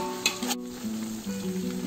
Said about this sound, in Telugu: బాగా ఫ్రై చేసుకోవాలి జింజర్ గార్లిక్ పేస్ట్, మనకి రా స్మెల్ పోయేంత వరకు ఫ్రై చేస్తున్నాము